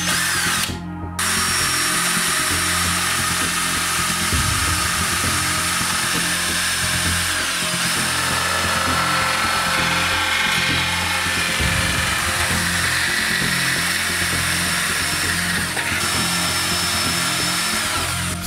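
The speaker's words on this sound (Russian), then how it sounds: "поэтому мной было принято решение пилить ее дисковой пилой" A circular saw cuts through a dried, stone-hard stuffed turtle at close range, a harsh, steady grinding buzz that holds for the whole stretch with slight dips as it bites.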